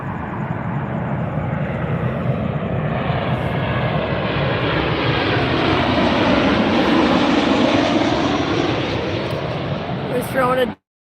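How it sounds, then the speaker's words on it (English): A jet airliner roars past close by at Las Vegas airport, a loud, broad engine rumble and whine that swells over about ten seconds and then cuts off abruptly. "The jets are so loud and so close."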